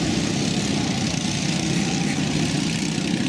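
A go-kart engine runs at a steady, loud drone with a low rumble and broad mechanical noise throughout, no clear rise in pitch and no speech.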